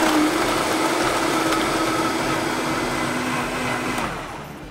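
A blender whirs steadily at high speed, crushing ice with frozen pineapple cubes for a piña colada, a loud continuous drone that begins to wind down near the end.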